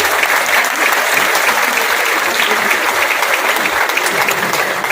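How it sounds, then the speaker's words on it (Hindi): A large audience at a business gathering breaks into loud, sustained applause, dense clapping that holds steady and close throughout with no speech over it. "जोरदार तालियों के साथ स्वागत आपका होना चाहिए"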